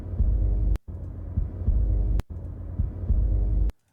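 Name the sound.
heartbeat sound effect in World of Warcraft trailer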